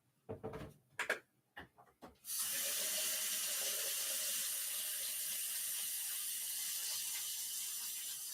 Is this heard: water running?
yes